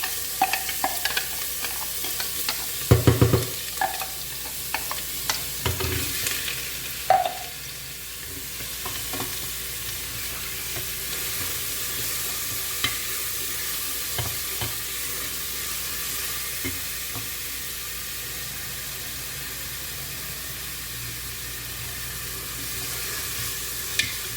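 Onion frying in oil in a pan for majbous rice (spiced meat and rice), a steady sizzle running throughout with a few louder stirring clatters early on, near and without talk.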